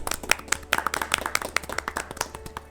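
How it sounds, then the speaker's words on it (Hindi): An audience at an Independence Day quiz show claps in honour of the soldiers. The claps are close, sharp and uneven, a small group of hands rather than a full ovation, trailing off near the end. "उनके लिए हम तालियां बजाते हैं"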